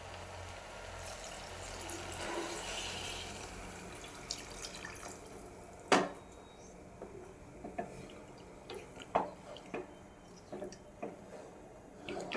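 Water poured into a pot of rice and vegetables for vegetable khichdi, about three glasses per glass of rice, gives a soft, steady wash of liquid with scattered drips and splashes, close and fairly quiet.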